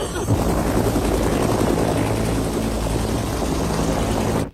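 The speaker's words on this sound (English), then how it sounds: "Where did the planes come from?" Military planes pass overhead with a loud, continuous, roaring rotor-like drone that fills the whole moment and then cuts off abruptly; a voice may be faintly buried in the noise.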